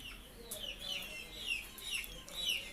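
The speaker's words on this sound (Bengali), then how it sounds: "এই মুরগিগুলো রাখে গেছে এখানে। এই যে সারাটা দিন ডাকে, সারাটা দিন ডাকে" Several hens kept indoors in a home cluck and call repeatedly, rising and falling bursts that are quiet and fairly close, spread across the whole stretch.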